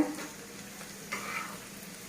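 Bitter gourd and fish frying in a pan give a close, steady sizzle, with a few stirring scrapes and a brief swell of crackle partway through.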